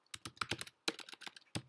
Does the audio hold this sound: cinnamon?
no